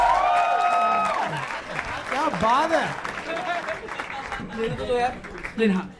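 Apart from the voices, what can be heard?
audience applause for a rap performer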